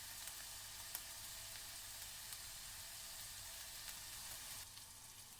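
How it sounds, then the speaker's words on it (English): A handful of vegetables browning in a pan for Portuguese fried rice: a quiet, even sizzle with occasional faint ticks and pops, heard alone and steady, easing slightly near the end. "I'll start by browning a handful of vegetables"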